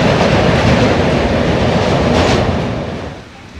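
A train rolls steadily over the rail bridge across the Brahmaputra river on the way to Kamakhya Junction, a loud continuous rumble with rattling wheels that eases and fades toward the end.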